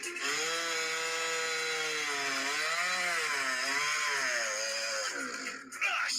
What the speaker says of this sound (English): So now he is yanking on this running chainsaw with all of his might.